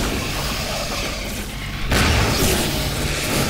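A grenade blast in Half-Life 2: Episode Two bursts out as a loud boom about halfway through, rolling into a sustained rumble after a stretch of steady game ambience.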